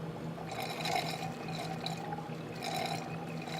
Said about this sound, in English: now there's just air with a little bit of water coming out